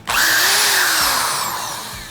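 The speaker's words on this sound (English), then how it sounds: "let's get on to testing for drilling some holes, Sam." A cheap, low-rated Lowe's power drill fitted with a 3/8-inch chuck bores holes, its motor whining loud and steady at close range for about two seconds, easing off slightly toward the end with no talk.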